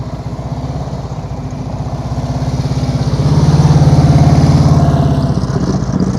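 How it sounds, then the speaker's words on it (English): Motorcycle engine at low speed during slow-speed riding practice on a serpentine cone course, a steady mid-distance drone that swells louder and nearer around the middle before easing off. "I hear his engine now"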